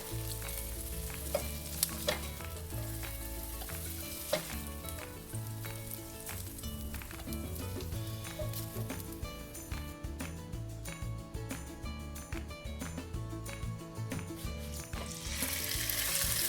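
Onions sizzling as they fry in a pan while a pork chop dish is prepared, a steady hiss with stirring clatter and music in the background, loud and close.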